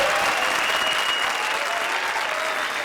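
Studio audience of the comedy show Comedy Circus bursts into bright, continuous clapping, loud and even throughout nearly three seconds with no pauses.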